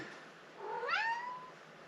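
A single drawn-out cat meow with a rising then falling pitch, clear and fairly close over a quiet background hiss.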